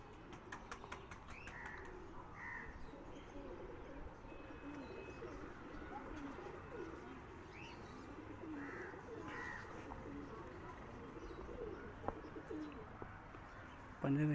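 Soft, low pigeon cooing repeats amid a busy outdoor background, with occasional chirps and a brief flutter of wings.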